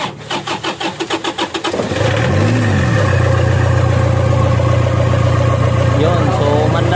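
A Toyota Fortuner's diesel engine with Coca-Cola poured into the intake cranks rhythmically for about two seconds, then catches and settles into a loud, steady idle with a brief rev.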